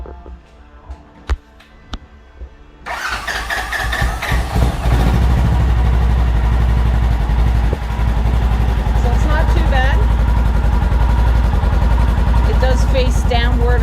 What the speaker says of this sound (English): this is what the stock exhaust sounds like.